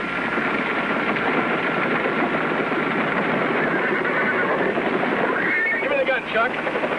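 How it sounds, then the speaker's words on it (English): A herd of horses stampedes through a canyon, their galloping a dense, loud, continuous rumble, with a sharp whinny breaking through near the end. "Miss Janie, we've got to stop those horses."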